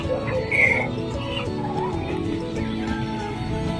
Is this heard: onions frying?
no